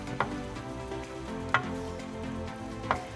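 Green chillies and tomatoes frying with mince in a pan, a steady close sizzle with three sharp spoon clinks against the pan spaced about a second and a half apart, no voices.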